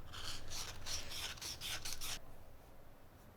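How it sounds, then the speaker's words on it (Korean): Medium-grit sandpaper wrapped around a finger is turned inside the hole of a wooden ring, giving quick, close, rhythmic rasping strokes for about two seconds before it falls quiet. "중간 사포를 이렇게 손가락에 감아서 돌려주면 되겠습니다"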